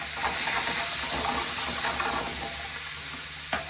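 White wine hitting a hot pan of deglazed juices for piccata, a loud sustained sizzle and steamy hiss close by, with a sharp clink near the end.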